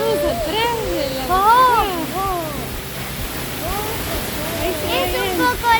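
A waterfall in Neuquén heard from behind the falling water, a steady loud rushing roar throughout, with birdsong chirps over it and people talking nearby.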